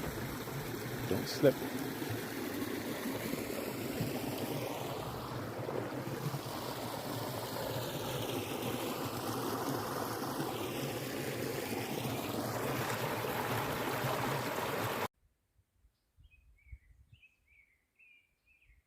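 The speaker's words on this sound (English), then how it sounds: "Just coming on to another nice little bridge and brook." Small brook trickling under a footbridge on Bufflehead Trail in Frontenac Park, a steady close rush of water with occasional footsteps, a brief spoken word, then near silence after it cuts off.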